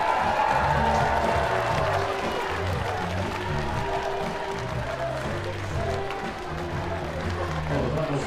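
A dense, steady wave of applause and cheering fills the arena at a women's compound archery World Cup final in Moscow, continuous for several seconds with a low murmur of voices underneath.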